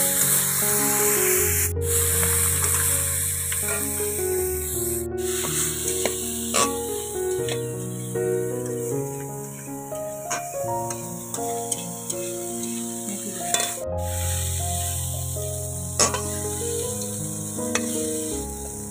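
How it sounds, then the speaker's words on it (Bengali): Dried shrimp fry in hot mustard oil in a kadai outdoors, giving a continuous hiss and sizzle beneath steady background music. "তেল গরম হয়ে গেছে, মাছটা ভেজে নিচ্ছি।"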